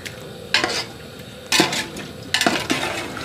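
Chicken being mixed with masala and yogurt in a pot over medium heat for a degi biryani: three scraping, clattering stirs, each a short burst of metal on pot with a faint sizzle between them, close and fairly loud.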